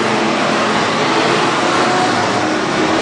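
WISSOTA Midwest Modified race cars roaring around the dirt oval at Granite City Speedway on the final lap, a loud, dense, continuous engine drone with no gaps.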